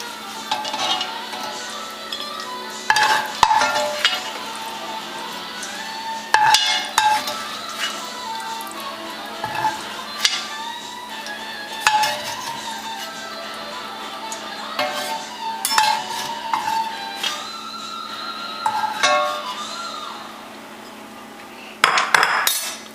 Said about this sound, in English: I'm just going to spoon it out with a slotted spoon